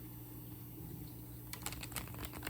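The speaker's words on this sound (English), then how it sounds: "I'm going to give this a riffle shuffle" Playing cards riffle-shuffled by hand, a quick burst of crisp flutters and snaps that starts partway through over a steady low hum, with no voices.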